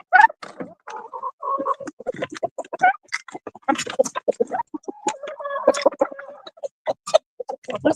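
Backyard chickens cluck and chatter in quick, irregular bursts, several birds calling close by during an outdoor walk with no other loud sounds around them.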